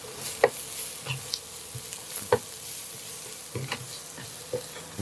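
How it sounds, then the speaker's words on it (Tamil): Garlic, ginger and green chilies sautéing with onions in a pan give a quiet, steady sizzle, with a few sharp spatula scrapes and taps scattered through it and no talking. "இதுவும் ஒரு 5 நிமிஷம் விடாமல் வதங்குங்கோ"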